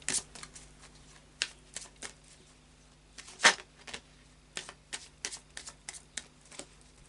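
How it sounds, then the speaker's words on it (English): A deck of oracle cards being shuffled at a reading table, soft close riffles and slides of card stock in irregular bursts, with one sharper snap midway and quiet gaps between. "And then a final shuffle of the Oracle of Visions."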